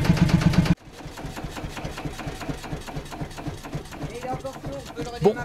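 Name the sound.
little tourist train engine running then stalling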